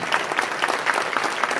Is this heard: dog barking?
no